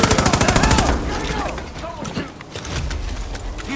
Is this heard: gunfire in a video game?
yes